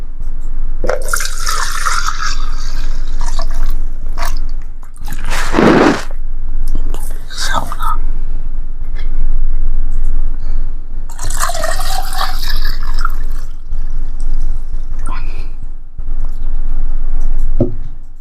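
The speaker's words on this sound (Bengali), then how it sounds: "আমি পাত্রে ঢেলে নিচ্ছি, যেহেতু আমি অন্য পটে ঢুকাবো।" Homemade white vinegar is poured from one vessel into a container, making intermittent splashing and trickling bursts, one sharp gush in the middle, with soft background noise between pours.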